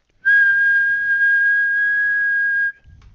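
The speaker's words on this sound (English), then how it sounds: "Just by whistling" Pure, clean whistled tone held steady at one pitch for about two and a half seconds, close and loud, then cut off into near silence.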